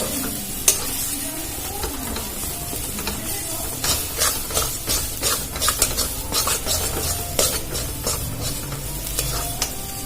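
Mughlai filling seasoned with garam masala being stirred and fried in a pan, a steady sizzle broken by scraping spatula strokes and occasional clinks against the metal, close and continuous with no talking.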